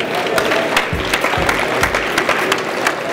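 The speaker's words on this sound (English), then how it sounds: "How about a big round of applause for all of our winners?" An audience at the KBIS innovation booth awards ceremony bursts into loud, sustained applause for the winners, a dense wash of crisp hand claps that continues throughout.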